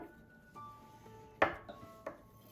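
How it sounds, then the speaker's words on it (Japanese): A knife warmed in hot water slices through a chilled duck foie gras terrine, giving two soft, close cutting strokes a little apart, with no talking. "包丁はお湯で温めてからフォアグラをカットするときれいな断面にすることができます。"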